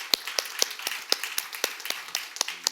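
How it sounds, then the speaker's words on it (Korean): A church congregation claps in unison at a Sunday service. The claps are sharp and rhythmic, evenly spaced at roughly four per second, and ring out clearly in a reverberant sanctuary with no talking over them. "우리 하나님께 감사의 박수를 드리겠습니다."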